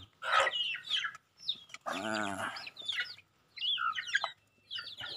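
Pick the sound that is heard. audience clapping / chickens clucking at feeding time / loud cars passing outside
chickens clucking at feeding time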